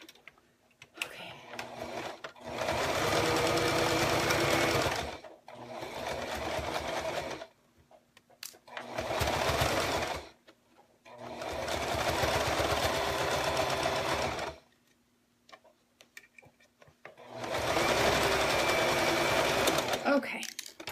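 A sewing machine stitches a paper-pieced snowman quilt block in five loud, steady bursts of a few seconds each, separated by short pauses, with no talking over the runs.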